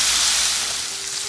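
Potato and carrot pieces fry in hot oil in a wok, a loud, dense, steady hiss of sizzling close by with no talking.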